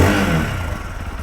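A SYM NH-T 200 small-displacement motorcycle engine idles with a low, throaty rumble, its steady pulsing putter heard up close.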